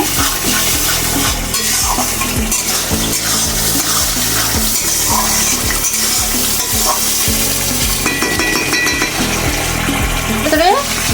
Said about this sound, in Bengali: এটাকে ভালো করে নেড়ে এটা ভালো করে মিক্স করে দিতে হবে